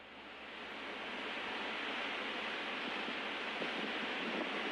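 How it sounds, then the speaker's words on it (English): A sandstorm roars as a dense, continuous rush of wind, with gusts buffeting the microphone, building slightly and staying loud and unbroken throughout. "And then I got an actual recording of a sandstorm from YouTube."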